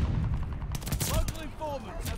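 A one-shot-kill DLC weapon in Call of Duty Vanguard fires in a loud, close burst of shots, followed by a brief spoken voice.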